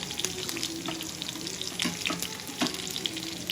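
Mustard seeds and a ripe green chilli fry in hot oil with close, continuous sizzling and scattered sharp popping crackles, with no talking over it.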